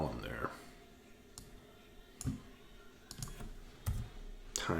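Several sharp computer mouse clicks come at irregular intervals, close and fairly quiet against a faint background, with a voice speaking softly between them.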